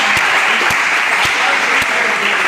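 Applause in a church podcast setting, a steady wash of clapping with a few sharper individual claps standing out at moderate loudness.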